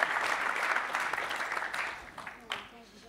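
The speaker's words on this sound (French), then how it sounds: "Ce serait peut-être bien que vous veniez sur scène, qu'on vous applaudisse." An audience at a Brittany business event applauds as guests are called onto the stage, a burst of close, dense clapping that fades toward the end while people talk over it.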